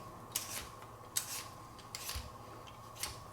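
A cucumber is peeled in about four short scraping strokes, soft and close, spaced roughly evenly with quiet gaps between them.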